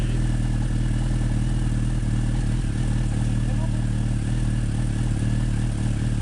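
A 1988 Suzuki GSX-R 750 motorcycle engine idles steadily and loudly up close, a continuous low throbbing rumble with faint mechanical clatter throughout.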